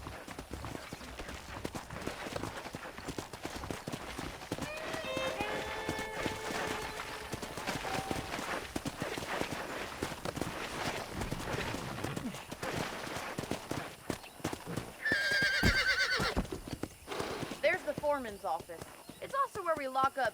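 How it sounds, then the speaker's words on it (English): In the Red Dead Redemption video game, horses' hooves clip-clop steadily with occasional neighs, running beneath frequent spoken dialogue between characters. "The horses are saddled up over here."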